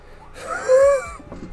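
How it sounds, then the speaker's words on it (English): A sleeping dog lets out a drawn-out whining, wheezy squeal that rises and falls over about half a second, then a few soft snuffling breaths, close and fairly loud. "That's the dog. That's the dog sleeping."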